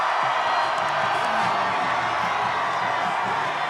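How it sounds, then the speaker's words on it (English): A large crowd of supporters at a Bernie Sanders rally at the Utah State Fairpark cheers and whoops in a continuous, loud roar with no breaks. "his supporters continued to cheer and chant"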